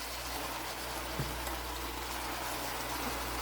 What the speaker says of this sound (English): I will just add 1/2 cup of water, friends.